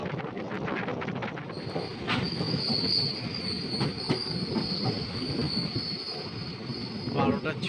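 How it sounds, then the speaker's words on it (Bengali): A local train from the Bardhaman direction passes close by: loud rolling rumble and clatter of wagons with high, sustained wheel squeals and occasional sharp clacks, no talking. "ওই যে একটা লোকাল ট্রেন আসছে বর্ধমানের দিক থেকে,"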